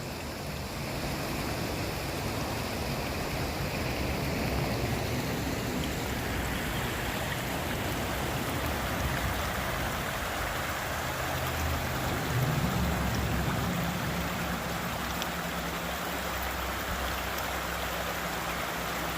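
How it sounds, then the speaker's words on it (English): Water in a creek flows steadily, a continuous close-up rush and burble that holds an even level throughout, with no voices. "One more peaceful view of my beautiful creek that I come to."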